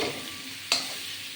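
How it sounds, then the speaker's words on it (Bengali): Drumstick vegetables frying in oil with salt and turmeric, a soft steady sizzle with one brief sharp scrape of a spatula partway through. "এটা দিয়ে আমি এবার যতক্ষণ ভাজা না হবে লাল লাল ভাজা না হবে"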